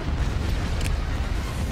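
A short burst of deep booming explosions and cannon fire rolls through a Star Wars space battle in a strategy game, steady and loud throughout with no voices.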